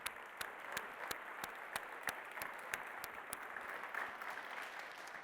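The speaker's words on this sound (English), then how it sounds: "Big round of applause for those folks." Keynote audience applauding at a conference wrap-up, a steady dense wash of many hands clapping with sharper individual claps standing out, sustained throughout without speech.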